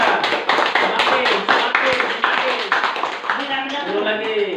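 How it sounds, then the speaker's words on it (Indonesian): A group of people clap their hands in a meeting room, giving a series of sharp, fairly loud bursts that grow quicker and denser, with voices talking over them. "Coba tepuk tangan dulu. Semua tepuk tangan."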